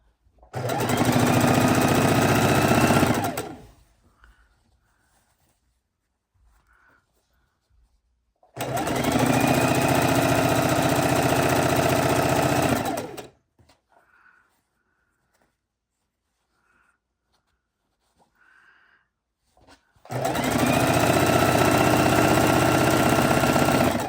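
A sewing machine stitches quilt border strips in three long, steady runs of several seconds each, loud and close, separated by near-silent pauses with faint handling sounds.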